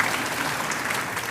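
Audience applause at a neighborhood best-practices conference: dense, steady clapping from a sizable crowd that fills the whole short moment at even loudness.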